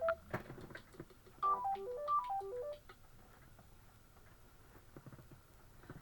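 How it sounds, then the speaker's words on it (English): A telephone rings with a short melodic ringtone phrase of quick stepped notes, moderately loud for a little over a second against a quiet room, then fades back to low background hush. "When you least expect it, you get a phone call."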